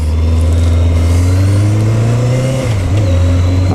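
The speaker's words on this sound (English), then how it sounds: "I am riding a 1991 Suzuki GSX1100G." A 1991 Suzuki GSX1100G motorcycle engine drones loudly and close while riding, its deep steady note rising slightly before a quick dip and recovery as it shifts, with wind noise and no talking.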